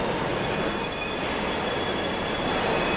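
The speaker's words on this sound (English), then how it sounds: "The next train. Rolling in." A train in the Terminal Railways game rolls into a station with loud continuous rumble and squealing wheels, without speech.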